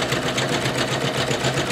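A Singer Legacy SE-300 embroidery machine sews a fast zigzag stitch. It gives off a steady, rapid mechanical whir with a quick repeating pulse that stays close and constant, with no one speaking.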